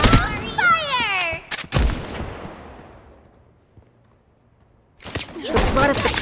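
Gunfire in the shooter game Strinova: two loud bursts of rapid shots, one early and one near the end, with a decaying tail between them and game character voices over the shooting.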